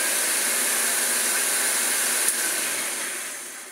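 A Hoover Junior 1334 upright vacuum cleaner runs steadily at close range, a loud continuous motor whine and airflow roar with a single brief click partway, tapering slightly toward the end.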